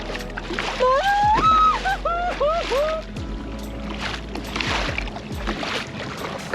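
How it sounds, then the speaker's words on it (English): Big waves splash and slosh against a small boat off Railay, Thailand, with bursts of water hitting the hull, a low motor hum underneath, and excited voices calling out over the sea. "Oh, big waves. Oh, big waves. Big waves."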